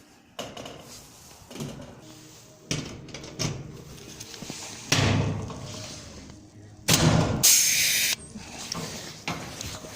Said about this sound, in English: Instead, I'm going to use a pneumatic rivet gun.